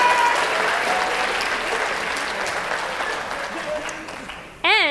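Audience at the 2024 LDTV school awards ceremony breaking into a strong, continuous round of applause that gradually tapers off, with a voice cutting in at the very end.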